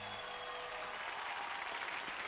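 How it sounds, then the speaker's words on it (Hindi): Audience applauding at a gathering on a Hindi television show, a dense steady wash of clapping that carries evenly from start to finish with no voices over it. "तालियां बजाकर"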